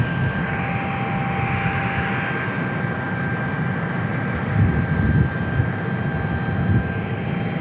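An aircraft, likely an Air National Guard F-16, takes off at Tucson International Airport, its engine a loud, sustained broadband roar with a steady whine, swelling slightly midway through and holding strong to the end.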